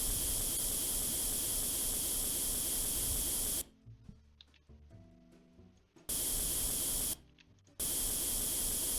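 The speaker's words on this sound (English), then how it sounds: "Yeah, it's definitely the paint gun." Paint spray gun hissing as it sprays a Tiger tank in the Tank Mechanic Simulator video game, a dense steady hiss that cuts off twice, leaving quiet gaps between long bursts.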